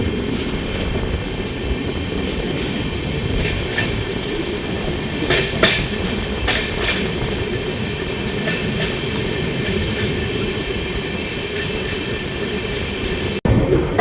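A brand-new LHB coach on the Tebhaga Express rolls along at steady speed, heard from inside as a loud continuous rumble with faint clickety rail beats and a short knock near the end.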